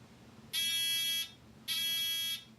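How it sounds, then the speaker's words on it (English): A homemade buzzer alarm triggered when cardboard is pulled from between clothespins, completing the circuit: two steady, shrill electronic tones of under a second each with a short gap between, fairly soft over a quiet background. "your alarm will then go off"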